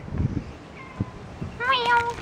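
A kitten meows in a high, rising cry near the end, heard outdoors under a deck after a few soft thumps, with a person speaking gently just before.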